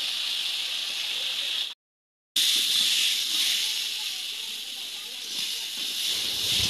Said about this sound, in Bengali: লবণ ও হলুদ দেওয়া হয়ে গেলে আলু ও কচুরমুখী ভালোভাবে ভেজে নেব।